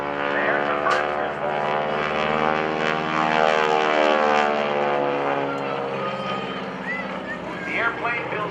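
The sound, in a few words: propeller airplane flying an aerobatic Cuban eight at an airshow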